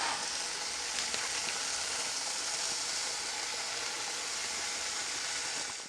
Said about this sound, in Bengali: এবার আমি এর মধ্যে শাকটা তুলে দিচ্ছি।